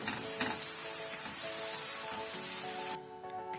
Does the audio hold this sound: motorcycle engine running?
no